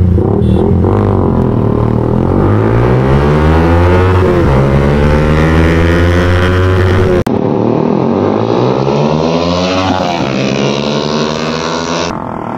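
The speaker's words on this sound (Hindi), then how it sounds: "चलो बैठते हैं बाइक पर और ड्रैग रेस करते हैं शुरू" Three sport motorcycles, a Yamaha R15 V4, a KTM RC200 and a Yamaha R15 V3, drag race on a road. Loud, close engines scream upward through the gears, with a sharp break at a gear shift before they climb again.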